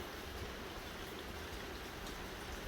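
Steady rain falling in Fiji during the rainy season, a constant even hiss of drops with no breaks, heard alone without voices.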